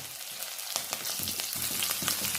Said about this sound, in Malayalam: ഉള്ളി ഒന്ന് മുരിഞ്ഞ് വരാനായിട്ട് ഇളക്കി കൊടുക്കാം